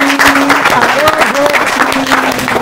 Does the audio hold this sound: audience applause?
yes